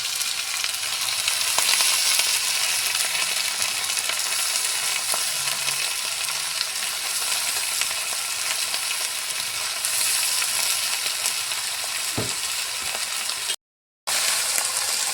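Shredded cabbage frying in a pan of fish-head curry, a loud continuous sizzle with occasional scrapes and knocks of a spatula stirring, and one brief dropout near the end.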